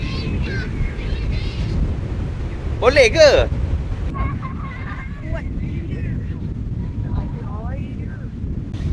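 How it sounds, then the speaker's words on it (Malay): Strong wind roars steadily across a beach in Kuala Rompin, Pahang, a loud continuous rumble with gusts, while people talk and a voice cuts through briefly. "Ui, angin kuat gila ni."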